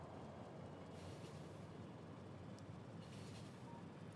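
Trains run along a rail network in the Factorio video game, making a steady, dense rumbling roar that stays constant throughout at moderate volume, with no talking.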